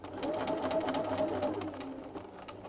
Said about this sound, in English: Don't sew over your pins, it will just knacker your sewing machine